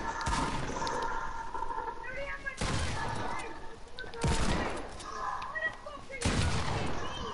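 Gunfire in a multiplayer video game comes as four sharp, loud bursts spaced about two seconds apart, over a constant background of game noise.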